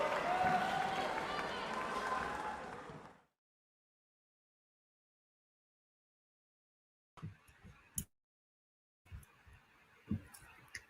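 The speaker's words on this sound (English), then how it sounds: "Another round of applause for that incredible session by FAIF volunteers." Audience applause at a live music session in Louisville: a dense burst of clapping for about three seconds, then silence, then a few faint scattered sounds.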